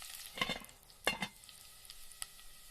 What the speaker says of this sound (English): I stir the food.